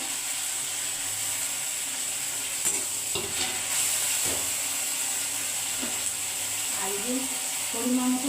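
Onion, ginger and tomato pastes with two bay leaves fry in hot oil, giving a steady close sizzle with occasional scraping stirs toward the end.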